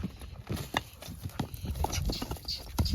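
A mare walks outdoors on a home lawn, her hooves clip-clopping in an uneven, unhurried rhythm of quiet, close steps.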